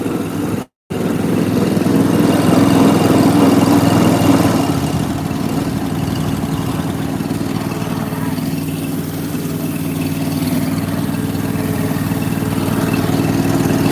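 A commercial pressure washer's engine runs loudly and steadily at close range, briefly cutting out for a moment near the start before resuming its continuous drone.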